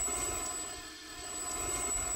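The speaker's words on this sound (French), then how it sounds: "Maintenant, Jamy, tu vas voir comment on fait décoller un hélicoptère." A helicopter taking off, a steady broad whooshing engine and rotor roar that dips slightly in the middle and then swells again, heard alone without speech.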